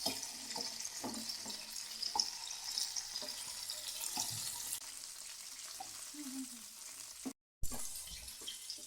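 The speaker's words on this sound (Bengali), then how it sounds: "চিকেনটা ভেজে নিয়েছি, আলুটা ভাজছি।" Oil sizzles and crackles steadily as potatoes fry in a pan, with a few soft clinks of stirring and a brief cut in the sound near the end.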